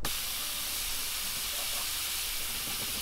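Steady, continuous aerosol hiss held at an even level throughout, like a spray can being sprayed up close.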